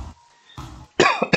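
Two or three sharp, harsh coughs come close together after a brief throat sound, loud and close with near-silence between bursts.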